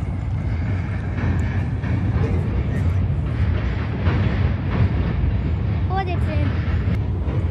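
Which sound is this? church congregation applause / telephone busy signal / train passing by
train passing by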